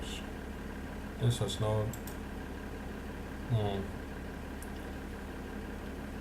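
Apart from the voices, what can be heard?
250 horsepower tractor engine idling in the video game Farming Simulator 2013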